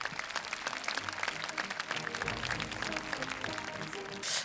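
An audience at the 14th Sancheong Buddhist cultural festival claps to welcome the county council chair to the podium. The applause is a steady, fairly faint patter from the crowd that carries on throughout.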